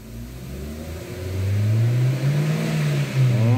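A Jeep Renegade engine, being worked on for a P1300 fault and wheel speed sensor learning, turns over and catches, then revs up to a loud, sustained rising roar before settling slightly, heard close with no talk.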